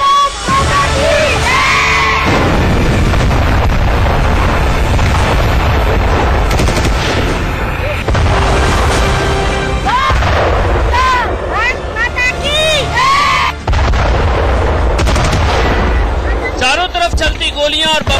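Sustained, dense gunfire and bomb explosions roar throughout on a battlefield, with shouting voices mixed into the chaotic, loud din.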